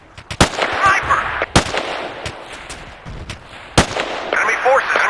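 Gunfire in the military shooter Battlefield 2: several loud, sharp single shots spaced irregularly over a few seconds, each cracking out over a busy battlefield bed with faint radio-style chatter.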